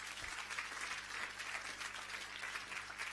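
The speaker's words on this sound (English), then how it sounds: "can you clap your hands?" A church congregation claps hands during a worship service, a steady, dense patter of many hands heard at a moderate distance with no talking over it.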